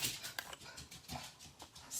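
Dogs in a room somewhere behind the main activity give off soft, irregular panting, whimpering and shuffling over about two seconds. The sounds stay moderate and fairly close, and nobody speaks.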